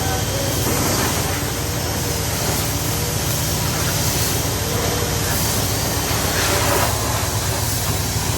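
A strong, continuous hiss of water spraying under pressure onto the engine bay of a 1985 Chevrolet Impala, loud and close, with a low mechanical rumble beneath it.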